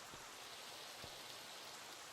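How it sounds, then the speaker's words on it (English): Steady, soft rain falling continuously in Minecraft with an even hiss and patter, unbroken throughout, with no voices. "Oh no, it's raining. Of course it's raining."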